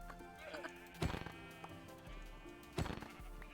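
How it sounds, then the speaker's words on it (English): Sheep bleating in a Minecraft-style server game as a player kills a large bred flock, two clear bleats a couple of seconds apart over faint game ambience, with no talking. "We're just killing all the sheep because I didn't realize until earlier that I had bred them up so much."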